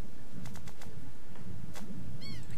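Bird sounds from the adventure game The Secret of Monkey Island: a few soft, quick clicks and flutters, then a brief high chirping warble near the end, all over a low, steady background rumble.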